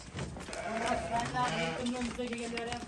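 Sheep of the Dorper breed bleat in a pen, several overlapping nasal calls rising and falling over about three seconds amid general farmyard commotion, close and fairly loud, with people talking in the background.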